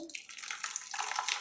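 Water pours from a bottle in a steady, close splashing stream lasting about a second and a half, with no talking over it.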